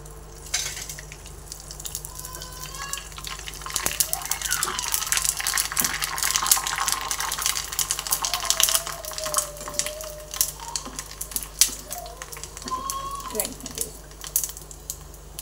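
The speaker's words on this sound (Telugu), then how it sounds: "ఇప్పుడు ఇవి వేయించుకుందాం." Bottle gourd vadiyalu frying in hot oil, a continuous sizzling crackle with rising and falling bursts of bubbling, close and steady throughout, with someone talking over it.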